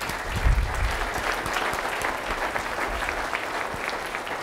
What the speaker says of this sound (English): Well, let's give applause to our panelists.